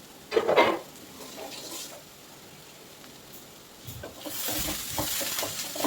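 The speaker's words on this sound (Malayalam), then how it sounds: "നല്ലോണം ഒന്ന് ഇളക്കി കൊടുക്കുക" A grated coconut mixture is stirred in a cooking pan, with a few loud scraping sweeps at the start, a quiet pause, then a soft ongoing sizzle and scraping.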